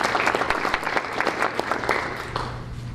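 At a school board meeting honoring student track athletes, the room gives a few seconds of steady applause with brisk, even clapping that tapers slightly toward the end.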